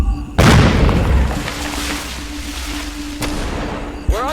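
A loud blast booms out at once in the Kokoda VR war game, with a long rumbling tail and a second sharp burst near the end, set amid a jungle firefight.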